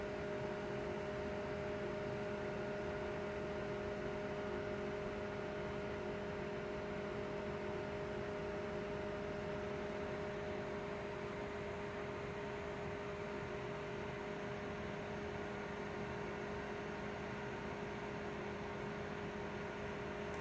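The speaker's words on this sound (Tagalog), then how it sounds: "I'll turn up yung fan natin to number 2" An electric fan set to speed 2 runs steadily in a room, a constant broadband whoosh with a low motor hum that stays even and unbroken throughout.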